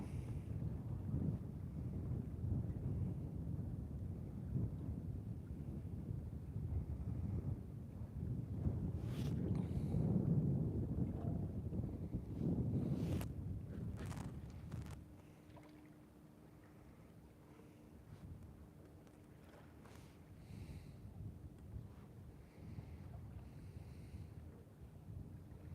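Wind blowing across Lake Moultrie while catfishing from a boat, a steady low rumble of gusts hitting the microphone, stronger at first and then easing into a quieter hiss.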